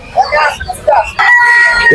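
Chickens at the Fatullah duck and chicken market in Narayanganj give loud, close clucks followed by a sustained rooster-like crow, amid market background noise.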